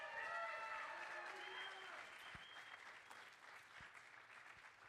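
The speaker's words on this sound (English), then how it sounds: "Can we give a round of applause?" Audience applause at the close of a college electronic music concert, steady clapping that starts full and gradually thins out, with a few cheers rising above it early on.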